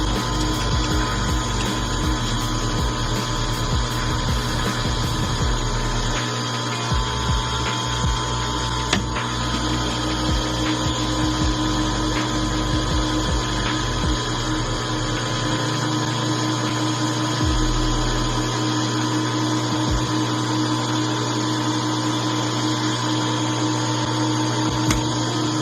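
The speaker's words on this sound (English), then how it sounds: "So we're going to set our 0. And get ready to cut threads." A metal lathe cuts threads on a Remington 700 rifle barrel, a loud, close, continuous mechanical whir and hum with ratcheting and rattling, its low drone shifting and dropping away toward the end.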